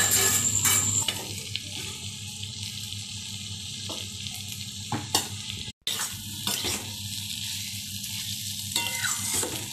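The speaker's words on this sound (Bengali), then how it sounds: "এইবার আলুগুলো আমি যেগুলো ভেজে রেখেছিলাম সেগুলো আমি এর মধ্যে দিয়ে একটু কষিয়ে নেব।" Already-fried potatoes are sautéed and stirred in a hot pan, a steady close sizzle under repeated scraping and clinks of a spoon against the pan, with one brief dropout midway and no talk.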